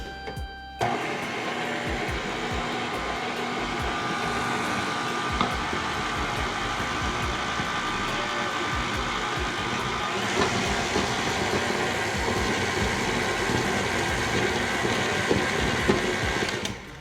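Stand mixer with a pouring guard beating powdered sugar into royal icing, a loud, continuous motor whir and rattle running steadily from start to end with no voices.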